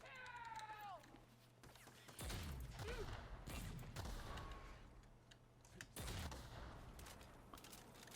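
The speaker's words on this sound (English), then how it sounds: "This grenade launcher does do a lot of damage." Grenade launcher rounds are fired and explode during a fight in The Outer Worlds. Three separate blasts, each a sharp crack with a rumbling tail, come at roughly two-to-four-second intervals, very quiet overall and mixed with game noise.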